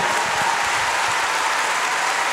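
Loud, dense crowd applause fills a festival tent at Pol'and'Rock 2021 for travel writer Elżbieta Dzikowska, a continuous wash of clapping with no talk.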